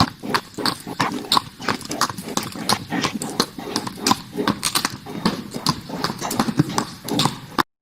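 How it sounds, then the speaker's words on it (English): Horse hooves clip-clop in a brisk, steady rhythm on pavement as a horse pulls an Amish buggy along a road, the hoofbeats close and continuous throughout. "to be driving down the road and pass a horse and buggy"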